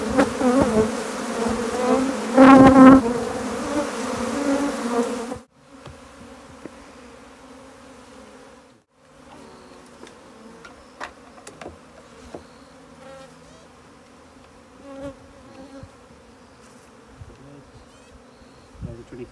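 Bees buzz loudly and densely up close at first during a nuc-to-hive transfer, then the droning thins out to a quieter, scattered hum of insects.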